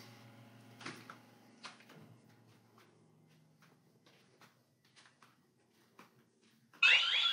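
After several seconds of quiet footsteps and faint room sounds in a home, a loud shrill Ring Alarm security siren suddenly blares and continues to the end.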